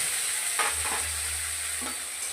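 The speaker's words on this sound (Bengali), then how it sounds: "পেঁয়াজের পেস্টটা দিয়ে একটু ভালোভাবে ভাজা করে নেব" Onion paste frying in oil in a pan with whole cumin and whole garam masala, giving a steady close sizzle broken by a few soft stirring scrapes, with no talking.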